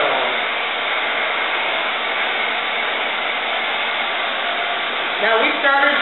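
A blow dryer drying hair in a salon roars steadily and loudly throughout, with faint voices entering near the end.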